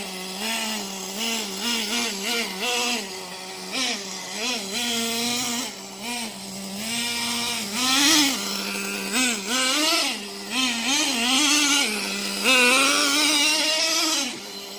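Traxxas Jato 3.3 nitro RC car engine warming up in cold weather at part throttle, a loud buzzing two-stroke whine that rises and falls in pitch with repeated throttle blips, continuous and close throughout.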